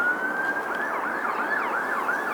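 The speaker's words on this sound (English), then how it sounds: "that's actually the first siren that I've heard so far" A wailing siren rises and falls in a repeating pattern, faint and far off, over a soft background hum, heard from a wild camp in seasonal marshland near a highway.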